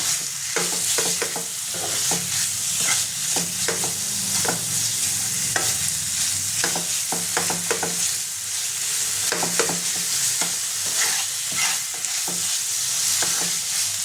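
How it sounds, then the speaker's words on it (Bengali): Finely shredded chicken fries lightly in a pan, a steady sizzle running underneath a busy series of sharp spatula scrapes and clacks coming in quick irregular bursts, close by and without any talk. "এবার আমি দিয়ে দেবো চিকেনটা, হালকা ভেজে নেবে চিকেন"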